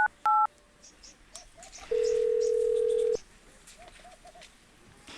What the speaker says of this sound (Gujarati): ફોન લગાવો